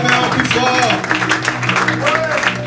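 Church congregation applauding loudly, sustained dense clapping and crowd noise from a large gathering, continuous throughout with a voice speaking over it.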